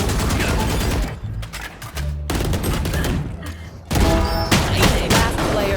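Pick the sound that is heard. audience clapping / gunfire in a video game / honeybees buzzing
gunfire in a video game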